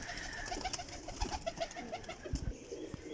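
Pigeons coo in soft, repeated rhythmic calls, fairly close but quiet, with a few dull knocks and shuffles in the background and no talking.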